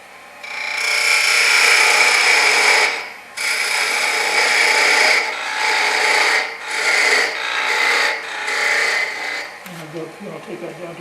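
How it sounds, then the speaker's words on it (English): Wood turning on a lathe, with a tool cutting a Christmas ornament finial down to a quarter inch: loud, close rasping in long bursts separated by brief pauses, easing off into quieter scraping at the end. "I'll go down and I'll cut that down to 1/4 of an inch again"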